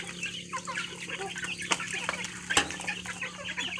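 Free-range village chickens and muscovy ducks on a small farm cluck and call, with two sharp knocks or flaps breaking through a low steady hum; the birds sound close to mid-distance.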